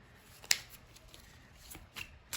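Quiet riffling of a deck of 1993 Baseball Aces playing cards being shuffled, a few sharp crisp card snaps spaced irregularly over soft rustling, close and faint.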